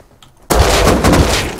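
Gunfire in the survival video game Rust: after a brief quiet stretch, a loud, dense burst of rapid shots begins abruptly and keeps going to the end.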